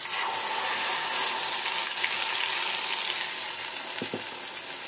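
Poppy seeds fry in hot mustard oil with a continuous, dense sizzle that stays loud throughout. A couple of soft knocks come near the end.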